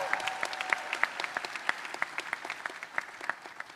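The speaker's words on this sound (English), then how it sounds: "Please give them a round of applause." Steady applause from a seated audience at a college ceremony, many hands clapping together at an even pace from a moderate distance, with no one talking over it.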